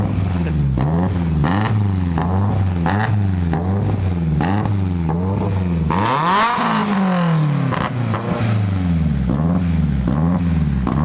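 A beams-swapped BMW E30 engine revs repeatedly with a leaking exhaust manifold gasket, the loud close-up throttle blips rising and falling in a rhythmic pattern, then one longer, higher rev that drops back to idle.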